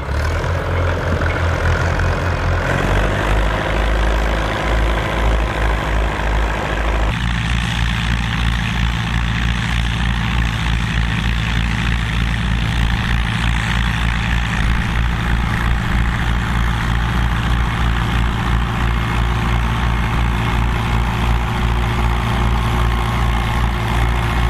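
A Fiat 513R tandem tractor, two tractors' engines and transmissions joined as one, runs with a loud, steady low diesel rumble and chugging rhythm, shifting in pitch early on, with no talk.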